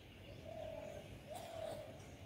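Pigeons on a city rooftop at early morning, giving two soft coos about a second apart over steady low background hum, fairly close but quiet.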